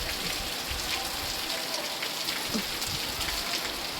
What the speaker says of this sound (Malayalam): എന്താ പെരുമഴ ഭയങ്കര മഴ